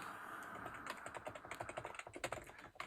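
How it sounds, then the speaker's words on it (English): Fingers tap quickly on a computer keyboard while entering login details, a close, quiet run of irregular key clicks that grows busier and more distinct toward the end, with no speech. "Type in all the details to do the thing."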